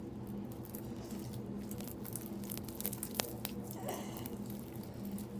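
Homemade slime is slowly stretched and squished by hand, giving faint, close wet crackles and soft squelching pops over low background hiss.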